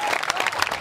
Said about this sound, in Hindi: एक बार जरा जोरदार ताली बजा के बता दें